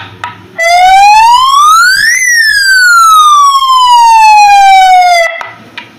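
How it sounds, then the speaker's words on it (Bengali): An ambulance siren tone plays from a small handheld microphone speaker, loud and close, one continuous electronic wail that sweeps up in pitch then slowly glides back down over several seconds. "এটা হচ্ছে অ্যাম্বুলেন্সের যে সাইলেন্ট সাউন্ড, এই সাউন্ড"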